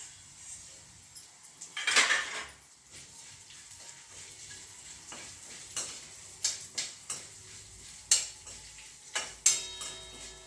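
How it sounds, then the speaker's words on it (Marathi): Vermicelli roasting in ghee in a pan, heard as soft sizzling beneath intermittent sharp scrapes and clinks of a spoon stirring against the metal, close and fairly quiet. "आणि आता ह्या शेवया थोड्या तुपामध्ये भाजून घ्यायच्या आहेत."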